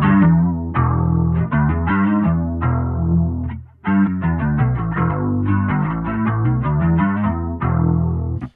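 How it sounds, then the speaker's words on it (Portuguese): Electric bass played through a Valeton GP200 multi-effects unit with chorus and drive engaged, a series of loud, warm distorted notes with a shimmering chorus, one short pause midway. "E fica só um chorus e um drive."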